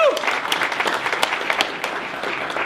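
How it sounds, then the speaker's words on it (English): An audience claps and cheers for a podcast host at an organization's annual gathering, a dense burst of applause with sharp individual claps running throughout. "Let's give that guy a round of applause."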